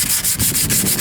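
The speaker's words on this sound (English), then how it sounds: "I'm just sanding this engine down" An abrasive pad or sander works over a junkyard engine block with light surface rust, giving loud, close, continuous scraping in quick repeated back-and-forth strokes.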